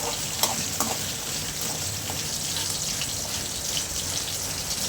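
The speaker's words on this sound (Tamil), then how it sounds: "வெங்காயம் சித்தோனே நல்லா வதக்கி விடுங்க நல்லா வதங்கட்டும்" Small peeled shallots sauté in hot oil in a pan, a steady broad sizzle and crackle that holds even throughout with a few faint pops, close by and without talking.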